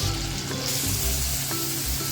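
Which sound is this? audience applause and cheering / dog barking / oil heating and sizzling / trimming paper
oil heating and sizzling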